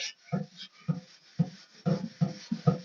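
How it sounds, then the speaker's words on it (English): Rusty metal scuffed before painting, six short rubbing strokes in a loose rhythm, close and moderately loud, with no voice over them. "just give it a little bit of a scuff"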